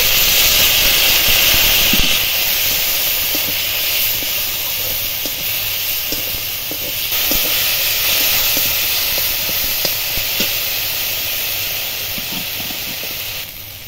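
Chilli and turmeric masala with a splash of water sizzles hard in a pan, a loud continuous hissing spatter close up with faint occasional stirring ticks and no talking.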